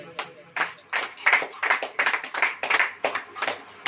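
A church congregation claps hands in a steady, rhythmic beat, about three claps per second, loud and close with a faint murmur beneath.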